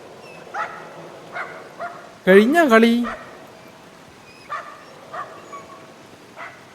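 A dog barks in the video game Somerville: short, sharp, fairly faint barks at irregular intervals, interrupted once by someone speaking.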